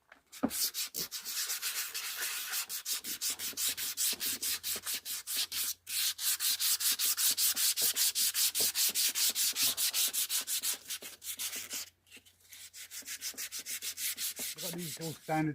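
Hand sanding along the edge of a beech and resin side table, with rapid rhythmic back-and-forth scratchy strokes, close and continuous, briefly pausing twice.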